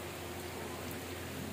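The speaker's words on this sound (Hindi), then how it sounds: "बारिश पड़ रही बढ़िया वाली" Heavy monsoon rain pours down during the first rains of the Sawan season, a steady dense hiss of drops hitting the ground, continuous and fairly loud, with no talking.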